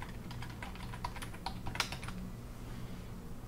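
A password tapped out on a computer keyboard: a quick close run of light key clicks that stops after a couple of seconds, leaving quiet room tone with no talking.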